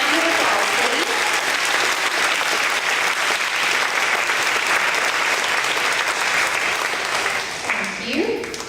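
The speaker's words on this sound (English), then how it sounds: "Give them a round of applause, please." A school audience claps for first grade award winners at an elementary school event, a dense, steady wash of applause from a crowd indoors, tapering off near the end as a voice starts to speak.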